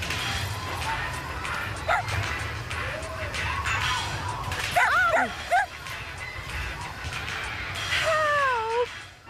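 A cartoon puppy yips, barks and whimpers in a busy scene, with rising and falling whines over background ambience and a clattering crash in between.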